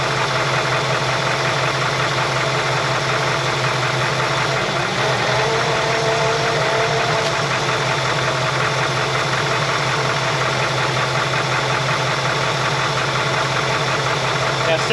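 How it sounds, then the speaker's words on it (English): A 1966 Ford F100 engine runs steadily at idle, with a continuous mid-range mechanical drone and rattle from an overcharging alternator throughout, loud and close, with no clear pauses. "Maybe it's the alternator that sounds like that."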